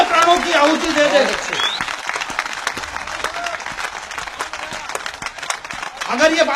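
Audience clapping at a Hindi kavi sammelan poetry recital in Pandeganj, a sustained dense burst of applause filling the room, swelling at the start and end with murmurs mixed in.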